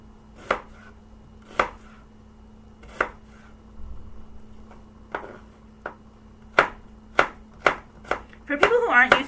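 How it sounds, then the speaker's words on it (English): An onion is chopped on a cutting board, giving sharp, separate knife strikes spaced about a second apart. They speed up into a quicker run of close chops at the end, with no talking. "And we're just going to chop this up as well."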